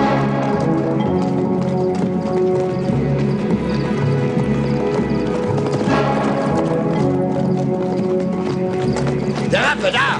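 Horses gallop through a forest setting by the Plitvice Lakes with continuous loud clip-clopping hooves and occasional neighs, while voices shout over the commotion.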